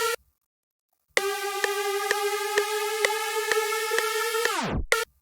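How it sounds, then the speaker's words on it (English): A tape stop effect from the Glitch 2 plugin ends a loud electronic dance beat: steady stacked synth tones with regular kick hits bend sharply downward in pitch and slow to a halt near the end, followed by a brief restart. "I'm going to add a tape stop at the end there so it sounds like this."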